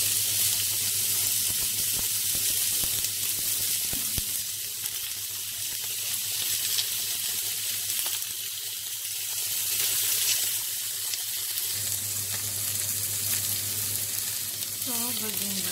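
Steak frying in a hot pan: a steady, close sizzle runs throughout, with occasional clinks, stirring and a low hum underneath.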